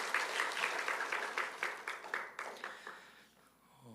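A church congregation claps steadily during a service, a dense wash of hand claps that gradually thins and fades out toward the end.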